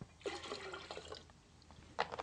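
Chlorine solution poured into tap water, a faint brief trickle and splash of liquid in short bursts.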